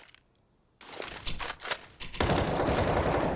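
Gunfire in the video game Counter-Strike during a professional esports match: a short burst of shots starts after a quiet moment, then rapid automatic fire and a loud, dense volley at the end.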